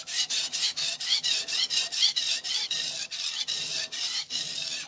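A knife blade is drawn repeatedly across an FSK vitrified diamond 400 grit sharpening stone, making a rhythmic series of close, gritty rasping strokes, about three per second, with brief pauses between passes and no voices.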